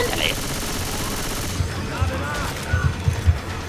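Sniper rifle fire in the co-op game Left 4 Dead 2, with a quick series of muffled shots clustered in the second half. The shots come through over mechanical game noise and a steady background, with no clear speech.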